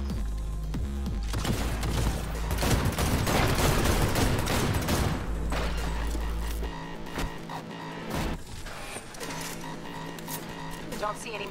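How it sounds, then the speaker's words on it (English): Enemy gunfire in a Cyberpunk 2077 firefight: loud, dense bursts of rapid shots and heavy thumps packed together, then sporadic single reports, with a voice talking over the shooting. "They're trying to shoot me."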